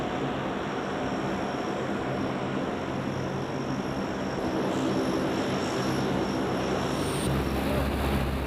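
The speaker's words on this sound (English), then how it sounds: "the Super Guppy is powered by 4 Allison turboprop engines" A Super Guppy cargo aircraft with four Allison turboprop engines drones steadily, a broad continuous roar heard from a distance with no talking.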